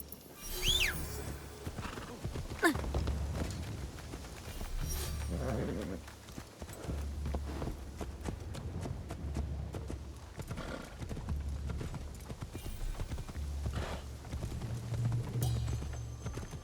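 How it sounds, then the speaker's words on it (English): Horse in Assassin's Creed Shadows, belonging to Yasuke, a samurai character in feudal Japan, whinnies near the start and then clip-clops along steadily through most of the scene, with game ambience and music beneath the hooves. "Wait, this is Yasuke's horse."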